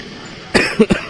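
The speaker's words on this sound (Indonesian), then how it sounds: "batuk kita nih sedikit." A person gives a short cough, a quick burst followed by two smaller hacks, close by against a quiet background.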